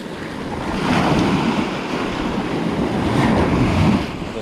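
Ocean waves on Felixstowe beach surge and wash close by in a broad, loud roar that swells and ebbs, with wind buffeting the microphone and no one talking.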